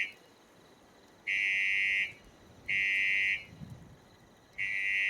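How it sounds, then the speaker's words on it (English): Repeating electronic alarm from the video game Fallout 76: three loud, sustained high-pitched buzzing blasts with short gaps, the last cut off, over a faint low background hum. "do we just have to listen to the annoying alarm?"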